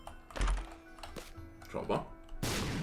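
Bomb dropping and exploding in The Binding of Isaac: Repentance, a deep thump followed by a short rumble, then another burst near the end, mixed with game effects and a voice talking.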